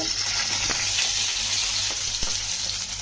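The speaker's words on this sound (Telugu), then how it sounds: "వేగి పోపు బాగా వేగాలండి" Mustard seeds, dried red chillies and curry leaves temper in about three spoons of hot oil in a pan, giving a loud, continuous sizzle with a few sharp pops and crackles, no voices.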